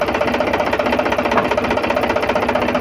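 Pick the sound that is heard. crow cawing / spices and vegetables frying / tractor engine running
tractor engine running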